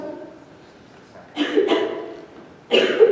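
A man coughs twice in short harsh bursts during a stage play rehearsal, close to the mic, with a quiet murmur before them and a pause in between.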